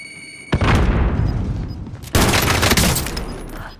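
A grenade blast and bursts of gunfire in the Warzone battle royale shooter: two loud, broadband impacts about a second and a half apart, each followed by sustained crackling fire, with no talk.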